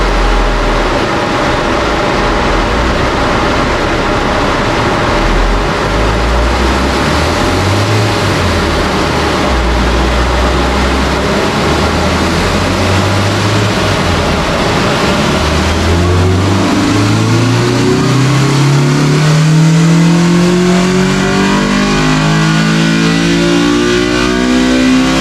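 An all-motor Honda B18C engine in an EG hatchback runs on a dyno, very loud and close. It holds a steady roar, then climbs in a long, rising rev sweep toward the end.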